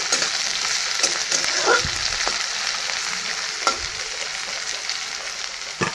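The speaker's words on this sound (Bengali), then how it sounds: "আজকে ভাত ভাজা করছি বন্ধুরা।" Leftover cooked rice fries in a pan with a steady, close oily sizzle, broken by occasional scraping and stirring clatters.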